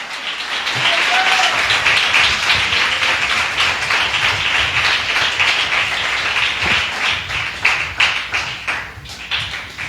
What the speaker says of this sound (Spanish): Le da un aplauso a su Señor.